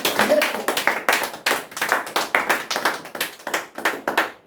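A church congregation claps in a steady, rhythmic beat to acclaim Jesus, with sharp, loud, closely spaced hand claps running throughout and voices faintly audible beneath.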